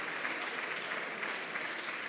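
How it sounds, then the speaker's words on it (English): Warm audience applause at a DLDwomen media conference panel, a continuous, fairly distant wash of clapping from a large crowd with no gaps. "And give a warm applause to Jochen."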